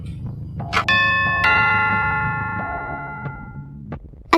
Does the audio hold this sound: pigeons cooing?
no